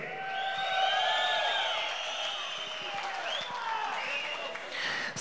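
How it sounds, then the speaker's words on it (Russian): An audience claps and cheers at a fight event for two Kyrgyz fighters, a steady wash of applause throughout, a little distant and moderately loud. "двум кыргызским воинам, джигитам, бурные аплодисменты!"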